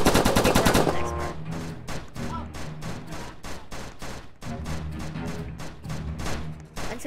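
Rapid bursts of automatic gunfire in a Roblox shooter game, loud and dense at first, then continuing as repeated sharp shot volleys with short gaps.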